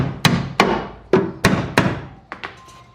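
A hammer beating on a car's suspension parts during repair work: five loud, sharp, ringing blows at close range with uneven gaps, followed by two lighter taps.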